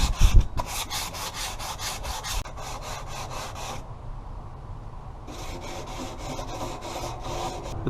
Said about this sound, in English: We're going to wad it up. Then we're going to start scraping the grill with it.